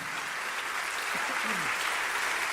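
A church congregation at a sermon applauds in a continuous wash of clapping. Faint voices cry out now and then underneath.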